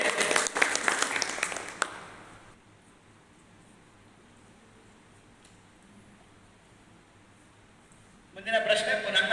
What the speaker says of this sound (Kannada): ಚಪ್ಪಾಳೆಯನ್ನ ಕೊಡಿ.